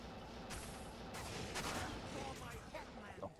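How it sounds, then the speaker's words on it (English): Corpse explosions in Diablo 2 Resurrected, a rapid cluster of sharp blasts and crackling bursts over busy game noise, moderately loud, with a few further pops near the end. "Corpse explosion me."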